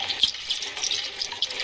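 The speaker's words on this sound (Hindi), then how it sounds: "पहले तो तेल डालेंगे" Fuel poured into a boat in the horror game Granny Chapter 2 makes a light, trickling liquid stream with small splashy bursts, short and fairly close, with no talking.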